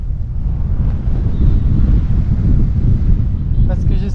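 Strong headwind buffets the microphone on a mountain run near La Clusaz, in a loud, continuous low roar, with a brief voice near the end.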